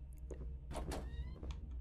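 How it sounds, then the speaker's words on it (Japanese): A door opens in the horror video game Home Sweet Home, heard as a few soft, muffled thumps and creaky scrapes in quick succession, fairly faint and alone. "なんかドアを開ける音がしたぞ"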